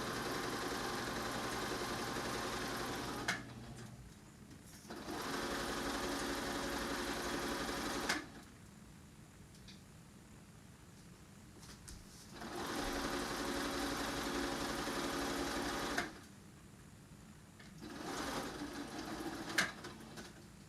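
A sewing machine running a straight stitch through fabric, a steady whirring hum in four bursts of several seconds each, separated by quiet pauses, close and fairly loud, no voices.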